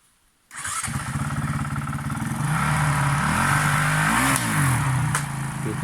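An off-road enduro motorcycle fires up after a brief silence and revs steadily with the clutch slipped, its loud, close engine note rising and falling in pitch, recorded on Madeira Island.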